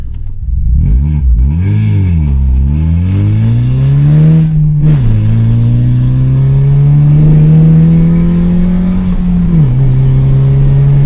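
Car driving with an aftermarket exhaust, heard close from inside or nearby: the engine revs and drops, then pulls steadily under load with gear changes, a loud continuous drone with no talking.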